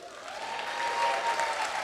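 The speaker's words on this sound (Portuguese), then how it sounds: "Aplausos para ele." People in a church Bible class give a brief round of applause, a soft, steady wash of clapping that swells slightly toward the end.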